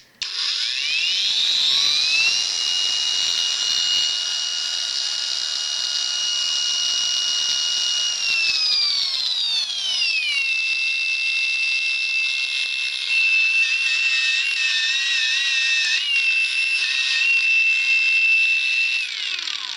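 DWT cordless angle grinder spinning up and running steadily close by with a loud high whine, dropping in pitch about halfway through and then holding at the lower speed to the end.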